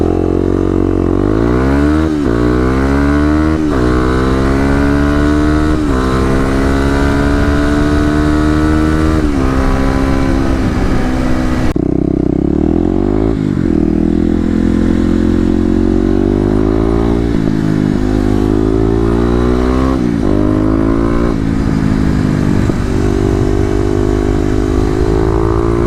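A Kawasaki KLX250 dirt bike fitted with new mods accelerates hard on a 0-60 run. The engine revs rise through several gears, each climb cut off by a shift, loud and close from the rider's position.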